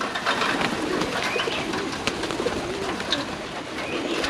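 Pigeons coo and flutter close by in the grounds of a Chiang Mai temple in Thailand, a steady dense bird chorus with wingbeats throughout and occasional faint voices.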